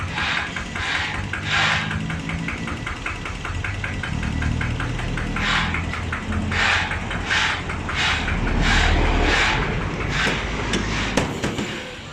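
A Kubota ZT100 diesel engine runs close by with a loud, steady knocking chug that holds an even rhythm for the whole stretch, with no talk over it.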